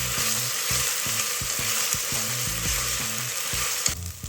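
Ginger garlic paste sizzles as it fries in a pan while veg pulao is cooked, with a constant loud hiss and rhythmic scraping from stirring, no talk.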